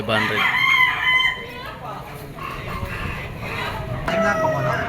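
Gamecock rooster of the Boston line crowing at a fowl market in Padre Garcia, Batangas, one long loud crow near the start, with more crowing and clucking from other birds and market chatter around it.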